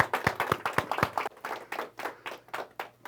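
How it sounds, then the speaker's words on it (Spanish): Small church congregation in Irving, Texas clapping in a sparse, uneven way, a handful of distinct close hand claps at first, then settling into a rhythmic, steady pattern of claps. "Un aplauso para ustedes."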